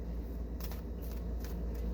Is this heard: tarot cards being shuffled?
yes